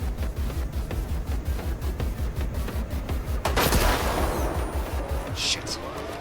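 Gunfire in the shooter game S.T.A.L.K.E.R. 2, a rapid sustained burst of automatic shots pounding steadily, followed by a sharp louder blast and a rumbling, crackling tail, with a voice talking over it.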